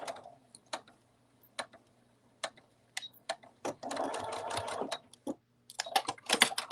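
A domestic sewing machine stitches fabric for a cuddle bunny toy in short, separate bursts of rapid clatter, then one longer continuous run and a final quick burst, close by and alone with no talk.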